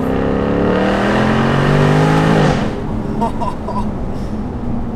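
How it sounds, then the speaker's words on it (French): A Jaguar F-Type R P575 convertible's supercharged V8 revs loud and close, its exhaust tone climbing then easing off after a couple of seconds into a lower rumble, with someone speaking over the engine. "écoutez, vous allez entendre les valves s'ouvrir"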